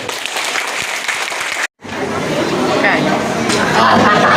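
Applause from an audience at a local anti-drug event in Thailand, a dense burst of clapping that breaks off briefly and then resumes louder, mixed with crowd noise and voices.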